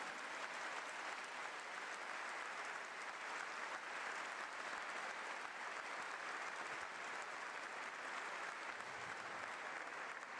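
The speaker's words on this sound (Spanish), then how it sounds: "Si vas a aplaudir, aplaudí al Señor como vale la pena" Congregation applauding in church, a dense, steady wash of clapping that holds at an even level for about ten seconds without a break.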